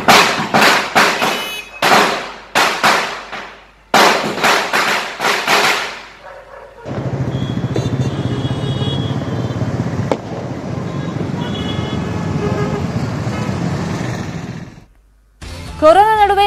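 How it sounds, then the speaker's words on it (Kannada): Lakshmi 100-wala double-shot firecrackers burst during Diwali in Bengaluru, a loud, dense crackling barrage that runs for about eight seconds after a stretch of speech, then stops abruptly. "ಲಕ್ಷ್ಮೀ ಪಟಾಕಿ 100 ವಾಲಾ ಡಬಲ್ ಶಾಟ್ ಸಿಡಿಸಿ ಸಂಭ್ರಮಿಸ್ತಾ ಇದ್ದಾರೆ"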